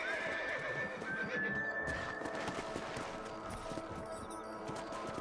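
Horses whinny and hooves clip-clop in the Western video game Red Dead Redemption, a long rising neigh up front over steady galloping, with dense continuous in-game ambience and no talk.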